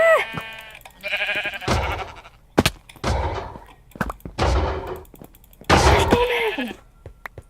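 Several loud, bleating calls from sheep in Minecraft in a burst sequence, separated by short gaps and sharp clicks, with game-like effects around them.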